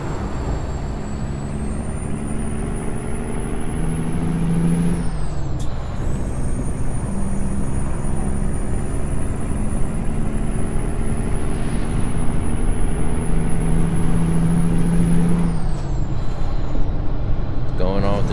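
A heavy truck in American Truck Simulator drives steadily with a loud, continuous engine drone and a rising whine, broken by a sharp hiss of air brakes around the middle and again near the end, under occasional talk.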